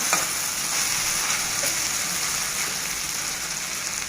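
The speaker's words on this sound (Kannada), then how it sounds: "ನೋಡಿರಿ, ಇದು ಫ್ರೈ ಆಗ್ತೈತೆ." Okra (ladies finger) frying in a pan for a bendakayi fry, a loud, steady close-up sizzle with crackling oil and light stirring throughout, no voices.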